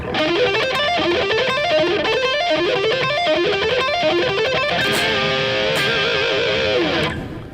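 Heavily distorted electric guitar plays a fast lick with an odd picking pattern in rising runs, then shifts to sustained bent notes and vibrato before cutting off.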